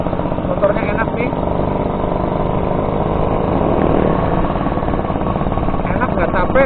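A Suzuki RC100 motorcycle engine runs off-road with a steady, buzzy two-stroke drone throughout. It is loud and close, and someone talks over it.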